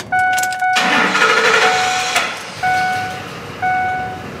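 A 2004 Ford F-150 pickup with a 5.4L engine and a faulty fuel pump driver module cranks and briefly catches with a rough, loud burst, then dies, while a dashboard warning chime beeps steadily before and after.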